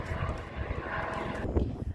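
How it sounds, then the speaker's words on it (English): A helicopter passes by outdoors near Rochester Castle, a steady droning rotor and engine roar at moderate distance, fairly loud throughout, with some faint background voices. "I just saw a cool helicopter passing by as well."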